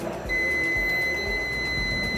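Multimeter set to continuity mode beeps while probing a shorted section of a laptop motherboard during repair, giving a steady continuous high-pitched tone that starts just after the beginning and holds to the end over faint background hum.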